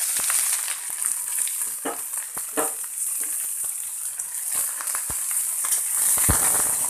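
Onion and cabbage fry in a pan with a steady, close sizzle, broken by occasional clicks and scrapes of stirring; no one speaks.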